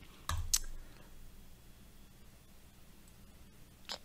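A single computer mouse click on an OK button, a short sharp tick standing out near the start against a quiet room, with another faint click at the end.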